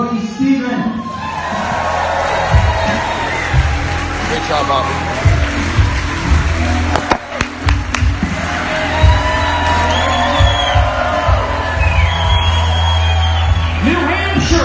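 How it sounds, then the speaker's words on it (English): A comedy club crowd at a New Hampshire stand-up show for Brody Stevens cheers, whoops and claps steadily for the whole stretch, with loud shouts rising midway and someone speaking briefly over the noise. "Round of applause, Brody Stevens."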